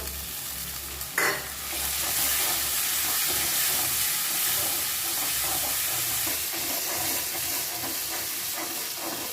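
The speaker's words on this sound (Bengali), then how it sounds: "দিয়ে দিচ্ছি পরিমাণ মতো হলুদ গুঁড়ো মশলাটা কষানোর জন্যই দিয়ে দিচ্ছি সামান্য জল" Spice paste with turmeric, salt and a splash of water frying in a pan for a prawn, fig and potato dish, hissing and steaming loudly and steadily after a brief sharp burst near the start.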